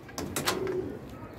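A pigeon in a loft gives a brief, soft coo, a short throaty burble over quiet background noise, fairly close but faint.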